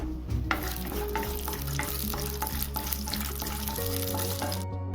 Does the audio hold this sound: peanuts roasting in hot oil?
yes